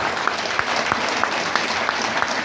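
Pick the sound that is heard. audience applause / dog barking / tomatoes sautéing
audience applause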